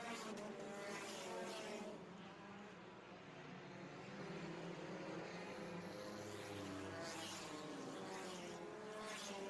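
Race cars in a field working through traffic on a race track, a distant wash of engine roar with overlapping cars rising and falling, faint and without talk.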